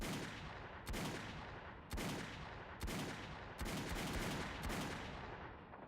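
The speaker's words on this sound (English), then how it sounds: "And the Auto 9. This is your heavy pistol right here." Auto 9 heavy pistol in a video game fires six loud, heavy shots about one second apart, each a sharp crack with a long ringing tail and no talk over it.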